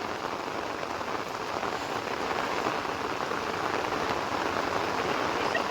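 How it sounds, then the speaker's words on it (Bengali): Heavy monsoon downpour pouring outdoors, a dense, loud and constant roar of rain with no pauses and no talking. "মুসলধারে বৃষ্টি হচ্ছে মানে যথেষ্ট জোরে বৃষ্টি হচ্ছে"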